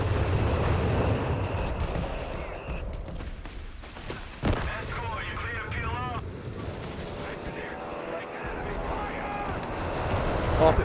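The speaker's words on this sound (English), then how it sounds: "Carpet bombing run's gonna have no luck." Carpet bombing run in the Company of Heroes 3 strategy game, a dense rumble of explosions and gunfire under continuous commentary from casters.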